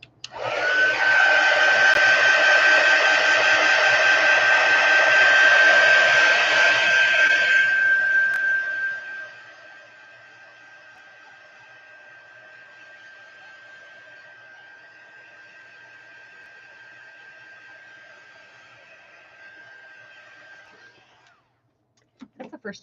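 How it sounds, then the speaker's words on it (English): A heat tool blasts a loud, steady airy roar while drying paint on an altered book page, then drops to a quieter sustained whine with a faint tonal hum before cutting off. "All right, heat tool. Sorry for the noise"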